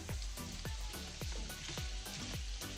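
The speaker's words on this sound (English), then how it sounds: "I'm going to give this about 5 minutes to fry it up" Salmon with a piece of scotch bonnet pepper fries in a pan on a stovetop for a sweet and sour dish, giving a steady, close sizzle broken by repeated clunking stirs or pan shifts.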